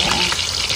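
Fish frying in a pan with salt and chili, a dense, steady sizzle heard up close and alone.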